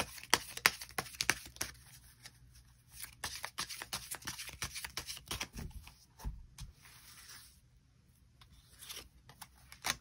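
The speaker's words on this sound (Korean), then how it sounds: "추가 카드 뽑아보도록 하겠습니다" A deck of tarot cards is shuffled by hand, giving close, soft riffling and flicking bursts with short pauses between them and a quiet gap near the end. No one speaks.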